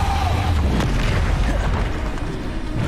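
A Depulsor spell goes off in Hogwarts Legacy with a loud, dense, rumbling whoosh and boom. Heavy low-end energy sustains across the whole moment, with game effects layered thickly.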